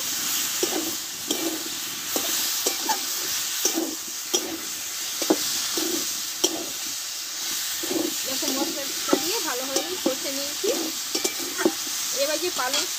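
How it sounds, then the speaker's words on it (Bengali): Cauliflower, potato and brinjal sautéing in spice masala in a pan, a steady close sizzle and hiss broken by repeated scraping stirs of a spoon, with softer clinks near the end. "দিয়ে মশলাটার সঙ্গে একসঙ্গে ভালোভাবে কষে নেব।"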